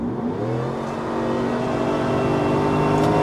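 An AMG car engine pulling hard under acceleration, a loud, continuous, rising mechanical roar with whirring tones building steadily through the short stretch, heard close and without talk.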